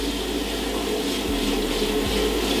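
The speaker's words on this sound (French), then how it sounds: "les pâtes, maintenant qu'elles sont en train de s'égoutter, on va les rincer à l'eau froide" Cold tap water pouring steadily over drained pasta in a colander: a constant, loud, broadband rushing splash with no breaks and no voices.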